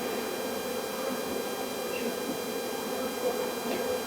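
Honeybees drone steadily at a hive while workers bring in honey and pollen, a dense, continuous buzz close up with no pauses.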